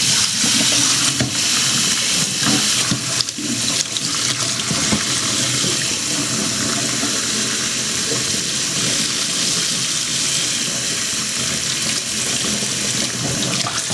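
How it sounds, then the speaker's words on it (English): Tap water runs steadily into a sink, used in place of a stop bath while developing Kodak Tri-X 400 film in Ilfotec DD-X. The pour is loud and continuous throughout, with no talking. "time to pour out the chemicals"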